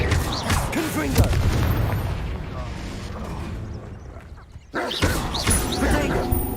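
Confringo fire spell cast in Hogwarts Legacy, a sharp magical blast with booming impact and crackle over dense game ambience, followed by another burst of spell effects after a brief drop.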